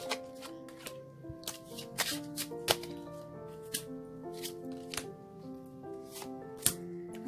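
Tarot cards being shuffled in quick riffling bursts, crisp and close, with soft background music playing underneath.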